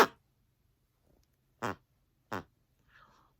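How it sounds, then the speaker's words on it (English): A cheap sloth plush toy gives a couple of short, low, buzzing farting noises with quiet gaps between, close by, followed by a faint trailing squeak, with no talking. "slow farting noise"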